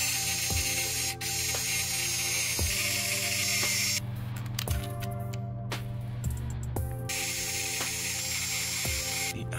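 A small screwdriver backs screws out of the internal components of a Lenovo ThinkPad X1 Yoga laptop during disassembly, making close, fine ratcheting clicks in repeated bursts, with a denser, busier stretch in the middle.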